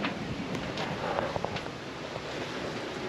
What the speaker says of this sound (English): And the wind is gusting.